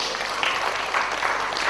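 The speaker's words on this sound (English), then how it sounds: "A big round of applause, please." Brief burst of audience clapping, dense and steady, heard close for under two seconds.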